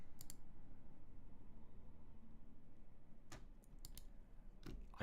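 Sharp computer mouse clicks sound close by, a couple of quick clicks early and a few more near the end over quiet room noise.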